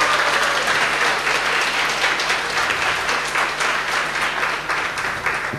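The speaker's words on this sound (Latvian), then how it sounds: "Un es gribētu, lai jūs uztaisat viņai riktīgas ovācijas." An audience at a science café event gives a sustained ovation for Ligita Liepiņa, dense steady clapping that holds loud throughout with no speech over it.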